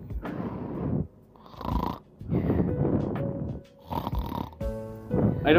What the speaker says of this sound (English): You think the ultimate life form wouldn't snore so loud